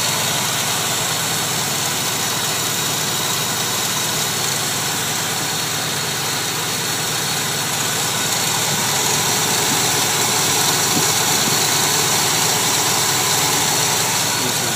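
An Oldsmobile Cutlass Supreme engine idles steadily and fairly loudly for the whole stretch, a constant unbroken hum with no voices.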